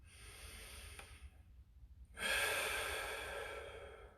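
During a static stretch with a stick or pole, a person breathes deeply near the microphone: a slow breathy exhale, a short pause, then a long forceful breath that tapers off.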